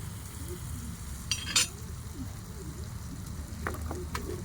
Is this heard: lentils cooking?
yes